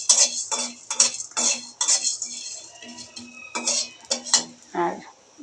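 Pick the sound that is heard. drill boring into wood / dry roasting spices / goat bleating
dry roasting spices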